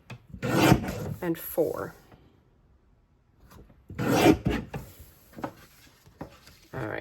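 A paper trimmer slicing sheets for a scrapbook page kit, with two short rasping cuts close by and a person talking between and over them.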